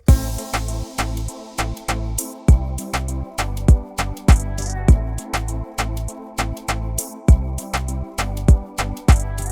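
An Afrobeats verse with a synth and a pad rides a steady, pulsing groove: a booming kick and bass, crisp percussion hits and sustained chords. It is loud and dense, and no one speaks over it.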